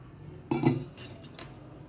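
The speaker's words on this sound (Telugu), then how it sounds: "ఇట్లా ఉండలు లేకుండా లిక్విడ్ లాగా ఒకసారి కలుపుకుందాం మంచిగా." A spoon clinks and scrapes against a bowl while stirring besan and water into a smooth batter, two or three quick close metallic taps over a quiet kitchen background.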